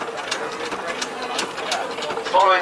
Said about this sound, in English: This is a Burrell showman's engine